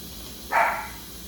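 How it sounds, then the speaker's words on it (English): One short, muffled dog bark rises briefly above a steady background hiss of an Instant Pot releasing pressure. "Wait till Buddy's barking."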